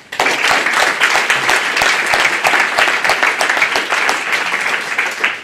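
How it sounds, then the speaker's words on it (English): Audience at a public school board meeting applauds the administration and community, loud, close clapping with distinct individual claps audible in a sustained burst that starts abruptly and holds steady. "So I'd really like to give our administration and our community a round of applause"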